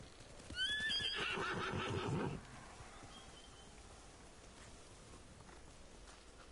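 A samurai horse in the game Ghost of Tsushima whinnies loudly and close for a couple of seconds amid hoofbeats, then fades to quiet outdoor ambience with a faint bird.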